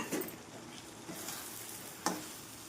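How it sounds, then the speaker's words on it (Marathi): Already-fried okra going into a pan, with a soft, quiet sizzle and a few light stirring scrapes, one sharper clink near the end. "भेंडी टाकणार आहे आता भेंडी आधीच फ्राय केलेली आहे"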